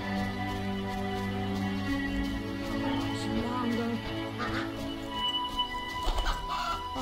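Ducks in The Witcher video game give short, repeated quacking calls over the game's background sounds, with voices talking in between.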